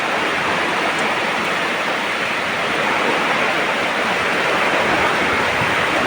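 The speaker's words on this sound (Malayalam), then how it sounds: "എന്തൊരു മഴയാണിത്" Heavy monsoon rain with strong gusting wind, swaying coconut palms, makes a dense, steady roar that stays loud and unbroken throughout, with no talk over it.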